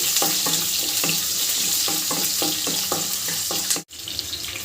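Small shallots and garlic cloves sauté in a pan with a steady, bright sizzle and a quick run of rhythmic stirring clacks, cut by a brief dropout just before the end, with no voices.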